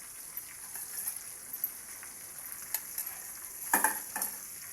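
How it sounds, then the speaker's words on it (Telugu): Sesame curry being stirred in a frying pan: a soft continuous sizzle with occasional light scraping strokes of the spoon against the pan, fairly quiet and close. "దీన్ని ఇలా తిప్పేసుకోవాలండి మంచిగా అడుగంటకుండా తిప్పుతూ ఉండాలి"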